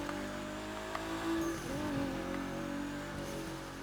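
A Nissan Skyline High Octane Edition revs in the racing game The Crew 2. The engine note climbs and dips through a couple of throttle blips, with a brief squeal. It sounds close and moderately loud, with no talking.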